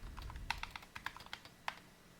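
Light, close keystrokes on a computer keyboard, about a dozen soft taps in an uneven run, typed quietly into a search bar with no voices.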